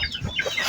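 A chicken clucks in short, close bursts over a busy farmyard background, with no voices.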